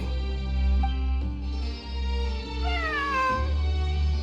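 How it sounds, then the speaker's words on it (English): A cat in the video game Genshin Impact meows continuously with a drawn-out, wavering, whining cry that rises and bends in pitch, close and fairly loud over a low steady game hum, with no talking. "A cat? I think there was one earlier, too. I'm not hearing things. It really is a cat."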